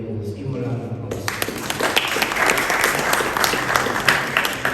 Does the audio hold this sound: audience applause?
yes